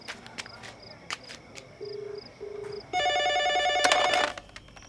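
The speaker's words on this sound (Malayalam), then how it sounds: "ഫോൺ അടിച്ച് കേട്ടില്ലേ?" A telephone in a Malayalam film scene rings, first as faint intermittent tones and then as a louder, sustained burst of about a second and a half, with scattered clicks and footsteps around it.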